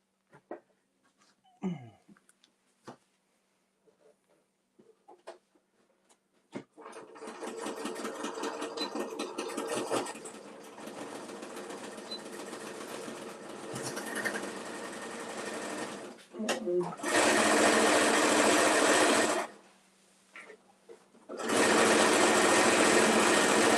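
A sewing machine stitches a patchwork cosmetic bag after a bobbin change and rethread, starting with scattered clicks and handling, then running in long loud whirring bursts separated by short pauses.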